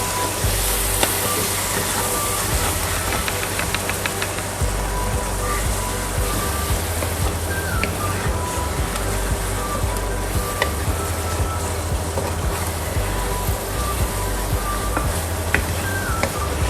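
Spinach chicken curry with whisked yogurt, chili powder and spices sautés in a pan with a loud, constant sizzle and bubbling, while spatula scrapes and stirring clinks recur close by throughout.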